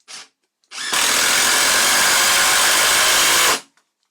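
Milwaukee impact driver driving a torx screw: a short burst, a brief pause, then about three seconds of loud, steady, rattling high-speed hammering up close before it stops abruptly.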